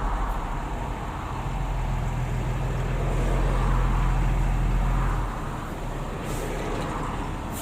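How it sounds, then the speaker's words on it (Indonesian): Heavy traffic on a jammed toll road toward Hsinchu, Taiwan: a dense, continuous roar of cars and trucks with a low engine rumble that swells and then eases, plus a brief hiss near the end. "Macet di tengah-tengah tol."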